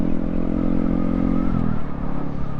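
A Honda Grom motorcycle with about 6,500 miles idles and runs steadily close by, a continuous low engine drone with a faint mechanical clatter and no talk.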